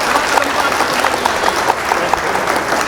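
Enthusiastic audience applause at a Hindi comic poetry recital, a dense, steady wash of clapping from a large crowd sustained throughout, with a voice faintly audible beneath.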